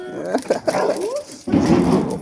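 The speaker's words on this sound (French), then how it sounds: "Doucement, c'est un vieux chien." An old dog whimpers and lets out short yips and whines close by on an outing, mixed with people speaking French nearby.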